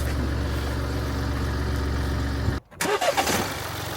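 A BMW Mini F55 with a 1.5 diesel engine runs with a steady, rough low drone that cuts out abruptly, then pops and splutters unevenly as it restarts, heard close up with no talk.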